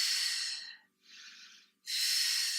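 Deep breaths during a Pilates crisscross leg-circle exercise: a long airy exhale, a short softer inhale, then another strong exhale, close and alone with no talking.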